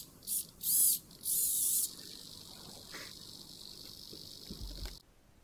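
Arduino-controlled servo motor turning to follow a slider input, several short, faint whirring bursts of high mechanical buzz separated by pauses, with no speech.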